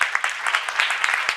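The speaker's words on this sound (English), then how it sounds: "you're applauding because I'm crying." A conference audience claps in a short, steady burst, many hands at a moderate distance, with no voices over it.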